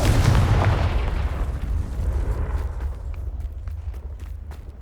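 A Confringo spell explosion in the Hogwarts Legacy video game: a loud booming blast at the start that rumbles on and slowly fades across the clip, with no speech.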